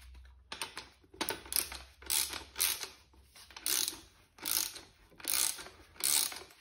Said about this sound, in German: Ziehen wir die Mutter hier oben einmal fest.